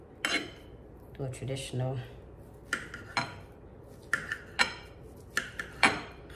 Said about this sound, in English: I'm just gonna cut up my turkey meat